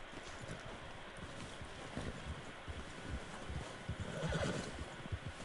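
Horse neighing in Red Dead Redemption 2, a faint whinny over wind and hoof clops in an outdoor scene, distant and low in level.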